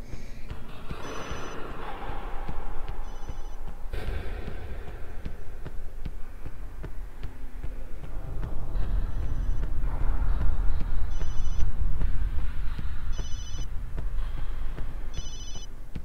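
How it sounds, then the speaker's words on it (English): Cell phone ringing in the survival horror video game Obscure, a repeated electronic ring in short bursts over a dense, murky game soundscape with low rumbling ambience. "I should have turned off my cell phone."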